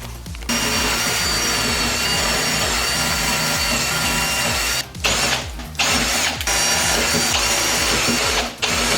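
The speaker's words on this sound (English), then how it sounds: "Now we're just gonna drill." Power drill boring into a car's front splitter on an Acura RSX Type S, a steady close whine running for several seconds with a few brief pauses.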